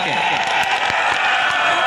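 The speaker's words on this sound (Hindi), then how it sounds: "मैं चाहता हूं कि प्रियंका जी के स्वागत में एक ऐसी ताली बजे" A large crowd at a farmers' protest rally in Saharanpur applauds and cheers to welcome an arriving guest, in loud, continuous clapping mixed with shouts and voices, heard fairly close.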